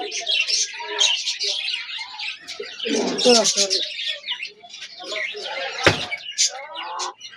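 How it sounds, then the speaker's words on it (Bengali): Damascene pigeons in a pet shop, with soft cooing and chirping calls from several birds close by and a sharp knock near the end, no talk. "দামাসিস, এটা অনেক আমার পছন্দের কবুতর"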